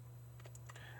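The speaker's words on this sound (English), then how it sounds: "I now place that into my calculator by typing in" A few soft, quick taps on calculator keys, faint and close, sit over a steady low electrical hum in a quiet room.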